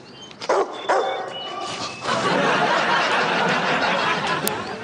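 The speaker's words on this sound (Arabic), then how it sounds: "هذا الكلب كينبح" A dog lets out two sharp, close barks, followed by a dense, steady wash of noise that continues to the end.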